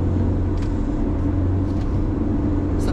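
Low, steady exhaust rumble from a Ford Mustang with a 2300 cc turbo engine while driving, a continuous droning hum heard from inside the cabin with no talk.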